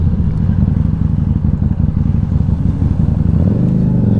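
A motorcycle with an aftermarket exhaust and a windshield rumbles loudly and steadily while riding, close up, with wind buffeting and a rise in engine pitch near the end.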